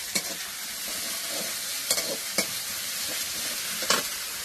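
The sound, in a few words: vegetables added to hilsa frying on a clay stove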